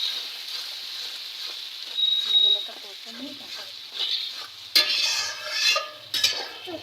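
Spice masala with a little sugar and coriander leaves is stirred in a pan for a rohu fish curry, with intermittent metal scrapes and clinks of a spatula over a faint sizzle and occasional background voices.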